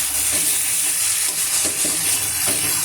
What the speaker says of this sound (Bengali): এই যে মশলাটা কষা হচ্ছে